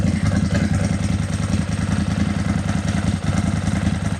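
A Ducati 748 motorcycle engine holds a steady high idle, its loud, close, even low-pitched throb and mechanical clatter running unbroken throughout with a brief dip near the end.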